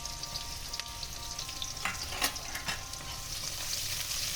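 Chopped onion and crushed garlic fry in oil in a pan for a Bengali fish curry, a soft, steady sizzle with a few stirring scrapes in the middle, close but fairly quiet and without talk.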